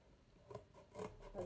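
Scissors cutting a small square of cardboard, a few faint, quiet snips and rasping rubs close by, with no talking.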